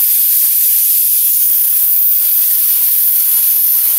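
Onion frying in a pan for pav bhaji gives a loud, unbroken hiss that holds evenly throughout with no pauses and no voices.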